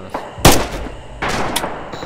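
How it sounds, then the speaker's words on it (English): Sniper rifle shots in the war shooter Rising Storm 2, two or three loud, sharp cracks with ringing tails spaced about a second apart, close and clear with almost no talk over them. "they've got sniper on us"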